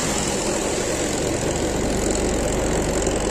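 A twin tub washing machine's spin dryer runs after a timer replacement, a loud, steady motor whir and hum filling the space without a break or any speech.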